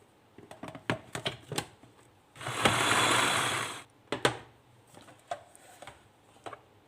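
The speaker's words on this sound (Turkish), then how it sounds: "Nohudumu da çektim rondodan." Three cups of boiled chickpeas whir in a food processor in one steady grinding burst lasting about a second and a half, with scattered clicks and taps before and after.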